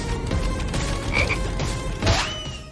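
Frogs croak in Final Fantasy 7 Rebirth, a few distinct ribbits over a steady game soundscape, with brief mechanical clanks in between.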